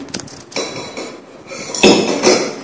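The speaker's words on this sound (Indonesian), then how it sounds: "kita masuk kembalikan korentang ke dalam mesinnya" Metal forceps dropped back into a sterilizer container during a circumcision procedure setup, giving several close, bright metallic clinks and rattles in irregular bursts, with no talking.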